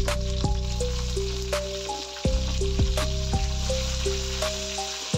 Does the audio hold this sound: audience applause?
no